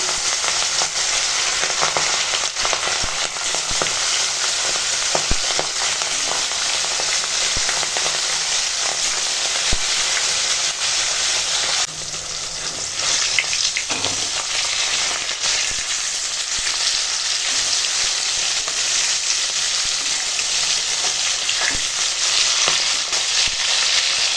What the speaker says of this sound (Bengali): এখন তেল গরম হয়ে গেছে আর মাছ ভেজে দেবো